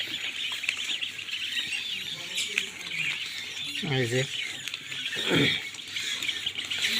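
Purple swamphen chicks kept for sale give squawking chirps and harsh calls in short bursts, up close, while a person speaks briefly over them.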